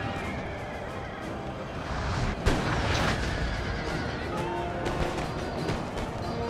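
Scattered musket and cannon fire from a Napoleon: Total War battle, an Austrian campaign with cavalry charging, rumbles as a dense, continuous battle din with a sharp crack near the middle and occasional distant bangs, while a voice talks over it.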